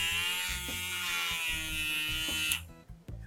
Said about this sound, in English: now we're gonna test to make sure that the motor works with the cork in it